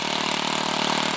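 A rototiller's small engine running steadily after its carburetor was cleaned, a close, even buzzing drone with a fine rapid pulse and no pauses.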